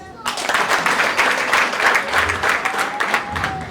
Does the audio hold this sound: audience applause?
yes